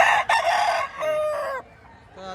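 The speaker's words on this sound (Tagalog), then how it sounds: "Gandang manok nito." A rooster offered for sale at a Padre Garcia, Batangas market crows loudly and close, a long strained call with a brief break, fading into faint background murmur at the end.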